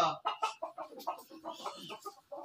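Brahma hens clucking at close range on a farm in Mymensingh, a steady run of short, uneven clucks and squawks from several birds with no talk over them.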